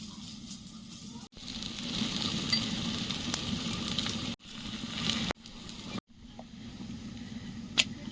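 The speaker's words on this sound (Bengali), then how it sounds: "বাকিগুলো সব ভেজে নেবো" Spinach parathas fry in a pan with a steady, close sizzle that continues for several seconds and breaks off briefly whenever the pieces are moved or turned.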